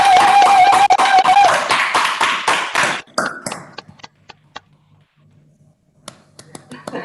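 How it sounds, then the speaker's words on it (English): Clapping at a Master of Science closing ceremony held online, a burst of mixed claps and taps for about three seconds, then scattered isolated claps and faint taps with quiet gaps between them. "That was a good clap"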